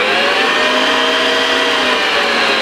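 A stand mixer runs at second speed, kneading brioche dough while butter is worked in. Its motor gives a steady, loud, close-up whir that holds without a break.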